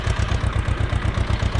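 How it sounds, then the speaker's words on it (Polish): An Ursus tractor engine idles just after start-up, a steady low, rhythmic chugging with even thumping pulses, loud and close, with no talk over it. "Odpaliłem sobie ciągnik."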